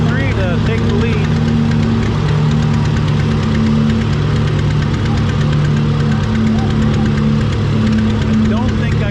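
Pulling tractor engine at a tractor pull, a loud, rough, sustained engine roar with steady low tones and knocking texture throughout, under a commentator's voice.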